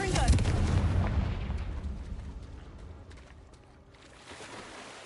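A Confringo fire spell from Hogwarts Legacy explodes loudly at the start, its rumbling roar fading gradually over several seconds before faint game ambience rises again.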